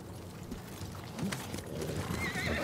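A horse in the video game Ghost of Tsushima neighs and clip-clops at a gallop, hooves pattering steadily beneath a whinny, fairly quiet with faint game ambience.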